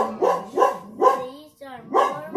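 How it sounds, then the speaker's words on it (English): A dog barks in several sharp, evenly spaced bursts close by, loud against a quiet indoor background. "I don't know what she's barking at."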